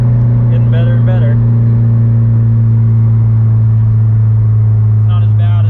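A nine-second Subaru WRX STI engine under way, a loud, steady, close drone that fills the cabin while voices speak briefly over it near the start and end.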